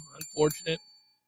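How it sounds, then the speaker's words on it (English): A bell rings during a sports talk show, its thin, sustained tone lingering beneath a voice as he speaks over it. "There you go. Bell."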